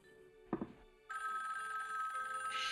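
A telephone bell rings loudly and continuously after a brief dull thunk, a steady bright trill filling the room.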